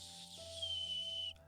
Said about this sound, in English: That was a whistle